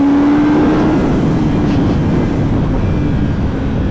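A 2021 Kawasaki ZX10R in stock form ridden on a race circuit, its engine roaring loud and steady throughout with a sustained droning tone and constant wind rush.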